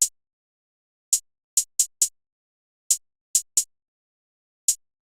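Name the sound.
hi-hat in an FL Studio beat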